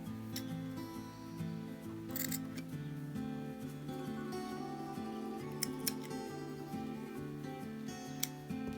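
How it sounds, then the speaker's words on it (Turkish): Scissors trimming excess yarn off a knitted hair tie, a few soft crisp snips close up over a quiet background hum. "Bu kenarlardaki fazlalıkları da kesiyorum."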